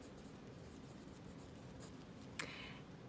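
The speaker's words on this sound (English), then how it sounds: "I'm just going to write light and heavy." Calligraphy pen strokes scratching across paper while practising light and heavy basic strokes, a soft continuous rasp with one brief sharper scrape near the end.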